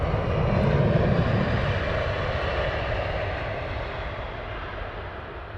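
Steady broadband roar of airliner engines at London Heathrow Airport, with a Boeing 787 Dreamliner nearby and an Airbus A380 in the distance; loud and continuous, fading gradually, with no talking.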